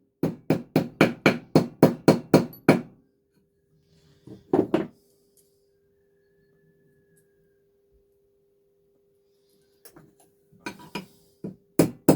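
A hammer taps rapidly and evenly about ten times while pins are set into a handmade chef knife handle. After a pause there are a few more scattered taps and knocks, all close and crisp.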